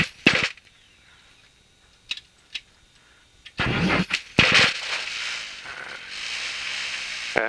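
Viking 150 aircraft engine on startup: a few sharp clicks and brief cranking bursts, then the engine catches and runs steadily, loud and close.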